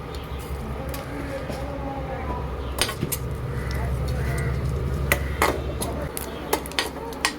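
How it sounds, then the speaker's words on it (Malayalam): Scattered sharp pops and crackles of mustard seeds spluttering in hot oil burst over a steady frying sizzle, close by, with a few louder snaps near the end. "ഇതാ കടുക് പൊട്ടി വരുന്നുണ്ട്"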